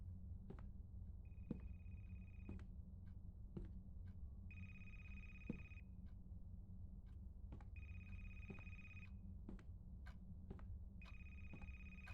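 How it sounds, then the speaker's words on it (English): Telephone bell ringing in an itch.io horror game, coming in four repeated bursts of trilling rings over a low ambient drone, fairly faint and distant with no talk. "I hear a ringing."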